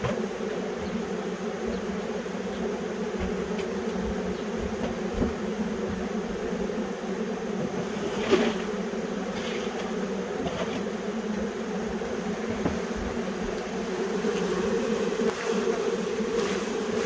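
A honey bee swarm being moved into a bee house buzzes continuously and densely, a near, steady drone with no talk and only a few brief knocks.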